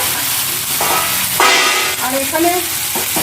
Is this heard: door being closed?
no